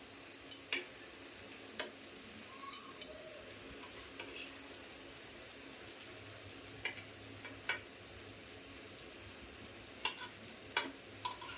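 Drumstick pods pan-frying in a shallow pan, a low continuous sizzle with scattered sharp clicks and taps of a spatula turning them, close and fairly quiet, with no voices.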